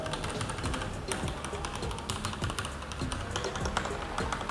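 Close, continuous typing on a Skyloong GK87s mechanical keyboard with Gateron Yellow Pro switches, quick clacky keystrokes in a steady, busy rhythm and no talking.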